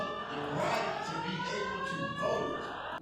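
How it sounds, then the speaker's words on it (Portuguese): Sirens wail steadily in the background through the whole stretch, rising and falling tones over a loud, busy ambient wash, with no clear talk. "Então ainda estamos conseguindo fazer isso com as sirenes tocando"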